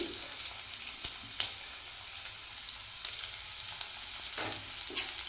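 Finely chopped onions with curry leaves frying in oil, a steady soft hiss and crackle with a couple of sharp clicks and stirring scrapes, no talking.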